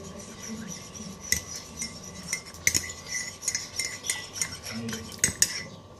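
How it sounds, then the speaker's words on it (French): Crêpe batter made with sweetened milk is whisked in a bowl, giving rapid, uneven clinks and scrapes of utensil against the dish, close and fairly loud, without speech. "Et on mélange."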